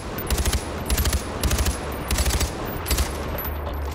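Automatic gunfire from the video game Far Cry 4, in five or six short rattling bursts spaced evenly under a steady background bed of game ambience.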